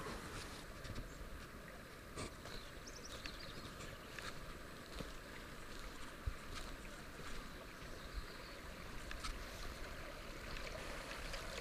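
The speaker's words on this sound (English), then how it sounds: "The creek is running sweet." A creek runs steadily in early May, its water giving a broad, continuous rushing wash with small splashes, heard from close by with no talking.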